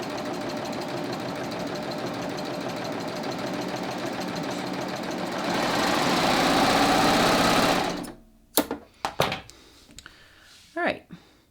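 A Baby Lock Ovation serger runs steadily, stitching and trimming fabric with its cutting blade, a continuous whirring drone that rises in speed before stopping, followed by a few short handling clicks and thumps.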